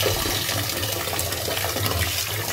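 Steady rushing water churns and sloshes continuously as millet grains are washed in a bowl, a loud close wash with no pauses and no voices.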